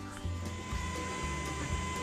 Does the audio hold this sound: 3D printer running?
yes